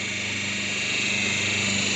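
A paper plate making machine with a lever-operated gear presses a sheet in its die, giving a steady close mechanical hum and whine that swells slightly and holds without a break.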